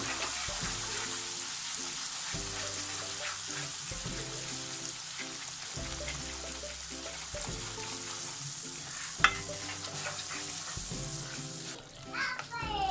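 Spice powders fry in oil for a Kerala-style fish pickle while being stirred, a steady close sizzle with soft scraping strokes, over a looping low musical background and a brief clatter near the end.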